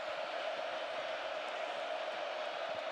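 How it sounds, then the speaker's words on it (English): A loud stadium crowd roars steadily at a USC vs Notre Dame football game late in the third quarter, a dense continuous wash of many voices with no individual words standing out. "Loud crowd"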